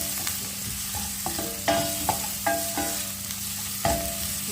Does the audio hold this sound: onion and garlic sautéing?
yes